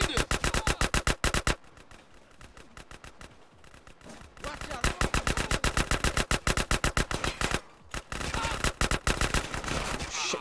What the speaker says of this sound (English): shoot up in the air